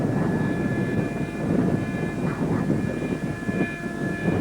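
A model jet aircraft with two stacked Avon-style engines flies past at a jet rally, its broad engine roar swelling and fading steadily as it passes at moderate distance.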